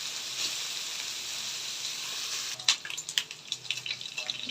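Meat frying in its own rendered fat gives a soft steady sizzle that breaks into a series of sharp crackles and pops near the end.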